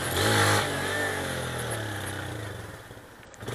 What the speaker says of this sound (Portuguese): A motinha tá da hora